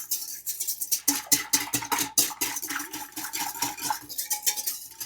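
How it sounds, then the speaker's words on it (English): A utensil stirs sugar into hot water in a bowl, rapid rhythmic clinking and scraping against the sides, loud and close, with no talking. "We're going to give this a nice mix"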